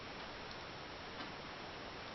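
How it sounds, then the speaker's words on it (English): A clock ticks faintly and steadily in a quiet indoor room, the soft ticks barely rising above a low background hiss. "the clock ticking"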